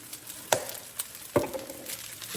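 Dried minced garlic sizzles in a hot pan as it is stirred in, a soft steady frying hiss punctuated by two distinct clanks of the utensil against the pan.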